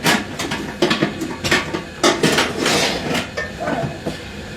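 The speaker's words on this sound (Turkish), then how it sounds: "buradan işte tencerelerimi alıyorum" Cooking pots taken from a kitchen counter and handled, giving a string of sharp metallic clanks and clatters at close range, irregular and fairly loud, with no talking.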